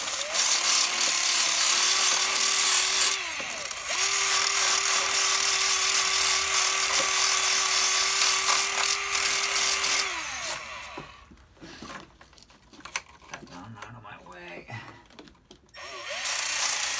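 A power tool grinds down the cap of an LS truck intake, giving a loud, steady, close whine for about ten seconds with a brief drop partway through, followed by quieter scraping and handling noises.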